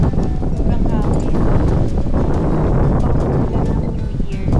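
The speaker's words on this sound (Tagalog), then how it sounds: "Sobrang hangin." Strong wind buffets a microphone outdoors by a small resort playground in December, a loud, continuous broadband roar with gusting swells throughout and no pause.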